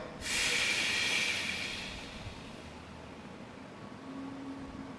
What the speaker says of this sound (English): I'm going to exhale